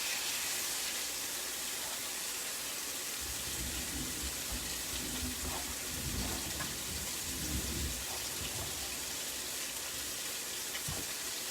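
Premade gnocchi searing in a hot pan, a dense continuous crackling sizzle like heavy rain, with low rumbling bursts in the middle, steady and loud, without speech.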